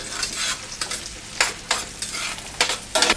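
Small onions cook in a pan with a loud, steady sizzle. It is broken by repeated stirring scrapes and utensil bursts that surge and fade at irregular intervals.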